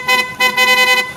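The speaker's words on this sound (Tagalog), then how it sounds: "So ngayon, subukan naman natin loud horn." Loud aftermarket vehicle horn pressed three times in quick succession, a bright, brassy, piercing tone from close by, with short gaps between blasts.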